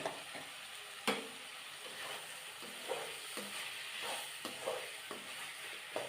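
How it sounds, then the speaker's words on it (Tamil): Tomatoes sauté in oil with salt and turmeric, giving a soft continuous sizzle broken by repeated scraping stir strokes at irregular intervals, heard close and fairly quiet with no talk. "கொஞ்சமாக உப்பும் லைட்டாக மஞ்சத்தூள் சேர்த்து நல்லா வந்து வதக்கி விட்டுக்கலாம்"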